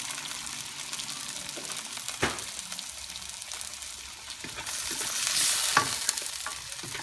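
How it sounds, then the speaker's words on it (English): Tomatoes and fish sauce cook in a pan for catfish stew, with a soft steady sizzle. A spoon stirs through them close by, making scraping clicks, and the bubbling grows slightly louder toward the end. "Let's mix it and give it 2 to 3 minutes to cook the tomatoes."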